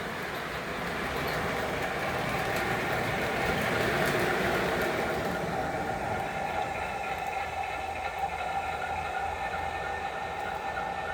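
A model railroad train runs on the main line of a home layout with passenger cars, giving a steady, moderately close rolling rumble and rail hum with faint clicking that holds even throughout.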